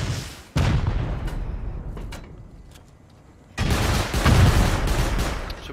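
Turret fire in a raid shooter game: loud bursts of rapid booming shots, broken by a quieter stretch with a few isolated cracks, then a second dense barrage.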